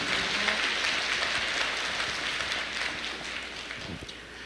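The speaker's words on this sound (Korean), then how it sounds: "큰 박수로 함께 청해 듣도록 하겠습니다" Sustained audience applause at a Korean environmental campaign talk concert, dense broadband clapping filling the whole stretch at steady loudness, tapering slightly toward the end, with no speech over it.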